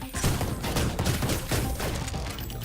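Rapid, continuous grenade launcher fire in Ion Maiden with dense explosive bursts, loud and sustained throughout, like heavy weapons fire in a chaotic battle.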